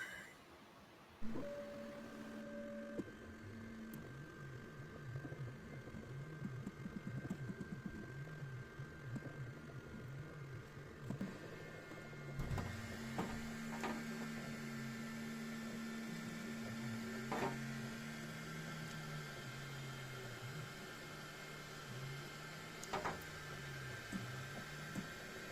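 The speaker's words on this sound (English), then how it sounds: "let's send it to the printer and see what it looks like." A desktop 3D printer prints a Dolce Gusto capsule holder, its stepper motors whining in shifting tonal sweeps and short runs over a faint fan hiss, quiet and close with no talking.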